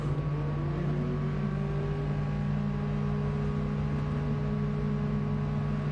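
Race car engines hum and drone steadily on the starting grid at the Red Bull Ring in a racing video game, a continuous layered engine tone with slowly rising pitch and no talking.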